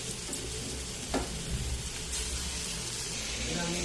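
Chopped onion, a little sugar and chopped tomato hit hot oil for mutton kosha, giving a steady, close sizzle and frying hiss throughout with a faint clink near the start.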